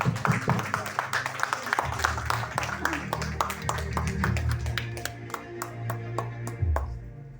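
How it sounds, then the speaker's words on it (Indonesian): An audience at a company product event claps as a guest is welcomed to the stage: sharp, rapid hand claps that start dense and loud, then thin out into scattered claps, with faint voices and music underneath. "Mari sambut dengan tepuk tangan dan berdiri."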